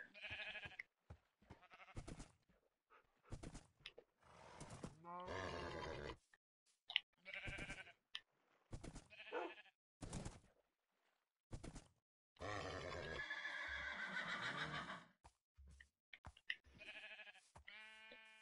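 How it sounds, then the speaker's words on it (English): Minecraft horse vocalizations, repeated short grunting, snorting and bleat-like whinnies in separate bursts with silent gaps between, close and fairly loud, no talk over them. "I just tamed this horse."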